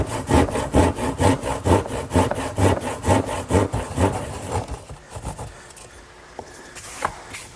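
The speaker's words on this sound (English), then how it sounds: "now I'll just finish off the corners using my trusty old hand saw" An old hand saw cuts through the corners of a wooden panel for a Shaker blanket chest, giving a loud, close run of rhythmic back-and-forth rasping strokes that stops partway, followed by a few faint knocks.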